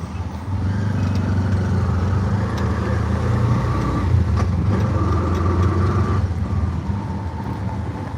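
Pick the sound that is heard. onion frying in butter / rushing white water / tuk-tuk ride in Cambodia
tuk-tuk ride in Cambodia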